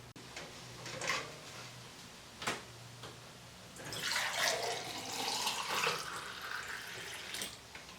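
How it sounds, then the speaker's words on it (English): Cinnamon tea pours in a soft trickling stream, faint and close, with a few light knocks before it; the tea is brewed with pineapple skin, orange peel, cinnamon sticks and clove. "That's how we would pour it."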